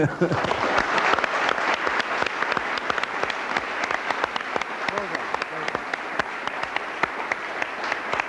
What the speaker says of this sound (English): Congratulations and a round of applause Yes, for well done, Pete the Peter.